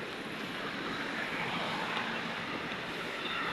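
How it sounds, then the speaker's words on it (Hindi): Floodwater swollen by heavy rain rushes along the overflowing Ghaggar river in Panchkula, a loud, unbroken roar of churning water with no voices over it. "ये देखो नज़ारा घग्गर नदी का, कितना ओवरफुल बारिश का पानी चल रहा है"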